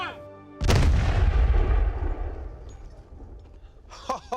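A period-accurate gun fires at a pirate-dummy target: one sharp, heavy boom after a brief quiet lead-in, followed by a long rumbling decay and faint reactions near the end.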